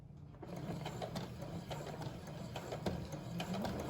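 A sewing machine stitches a cloth face covering, running in a steady rapid mechanical chatter of needle strokes, close and fairly quiet, starting just after a brief silence and continuing without talk.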